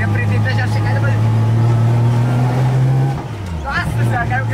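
A Nissan 350Z drifting, its engine holding a loud, steady droning note close by before dipping and rising again, with voices talking over it inside the car.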